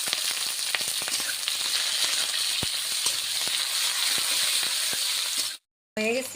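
Whole garlic, chopped onion and chilli fry in hot oil, a loud continuous sizzling hiss with occasional crackles and pops, close by, briefly cut off near the end.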